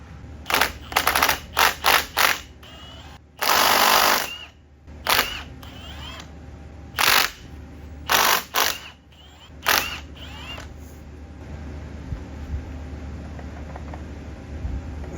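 Tools working on a Jeep JK axle during a teardown for a one-ton axle swap, giving a series of loud, sharp bursts and clanks in quick clusters, with one longer hissing blast and quieter shop noise between.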